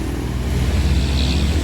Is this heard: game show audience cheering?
no